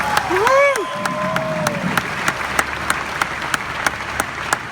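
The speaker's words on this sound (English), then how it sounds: "Can you give all of yourselves one big applause?" A crowd at a OneCoin gathering applauds with a steady, dense clatter of clapping, mid-distance and sustained throughout, while a voice briefly rises over the start.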